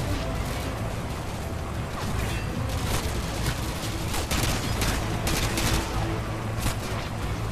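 Sustained automatic gunfire in Call of Duty Modern Warfare 2, loud bursts of close shots and crackling reports continuing over a dense battle din.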